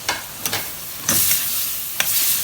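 Carrots and mixed vegetables sizzle and crackle in a hot pan during a stir-fry, with a steady frying hiss broken by a few sharp scrapes and tosses of the spatula and no one talking.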